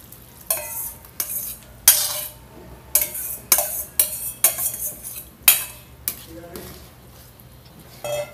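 Ground chile going into a pot of boiling pork pozole rojo, heard as a series of sharp clinks and scraping stirs, roughly a dozen irregular knocks of utensil against the pot over a steady low bubbling hum, close by with no talking.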